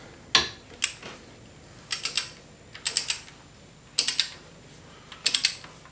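A torque wrench tightening the camshaft sprocket bolt on a Ford 1.8 TDCi engine gives crisp ratcheting clicks in short clustered bursts, repeated several times with brief pauses between.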